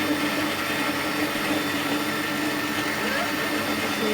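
An electric blender runs continuously, mixing lassi with milk in a steady, even whir that holds at the same level throughout without pause.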